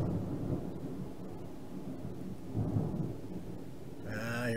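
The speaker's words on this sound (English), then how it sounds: "Here comes a thunderstorm again." Thunderstorm in a video game, with a low, rolling rumble of thunder and rain that swells and fades across the clip before a brief tonal sound at the end.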